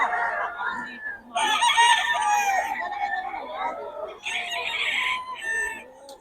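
Roosters crow at a market chicken stall, two long crowing calls close by with clucks between them and other fowl heard faintly, while people talk quietly in the background.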